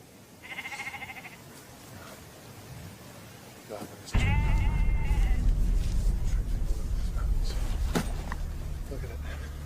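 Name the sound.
sheep bleating in a field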